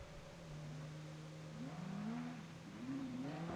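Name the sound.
Renault Clio car driving in time trial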